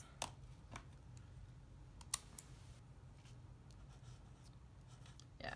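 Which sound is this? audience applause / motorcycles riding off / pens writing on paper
pens writing on paper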